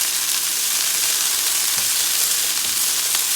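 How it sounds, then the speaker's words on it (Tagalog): Vegetables and sweet potato stir-fry in a hot pan with a steady, loud sizzle and crackle. Now and then a stirring scrape cuts through. No one speaks. "Stir-fry ko pa siya."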